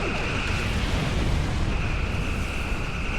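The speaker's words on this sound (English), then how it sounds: "And check out the photon torpedoes." Photon torpedoes firing from a starship in the Star Trek Online game, a dense, steady roar of launch blasts with a bright sustained tone running through, loud and continuous.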